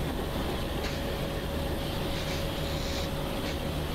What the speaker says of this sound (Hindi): अपने लोकोमोटिव के जो हैं ब्रेक पाइप में से आवाज़ क्यों आने लगी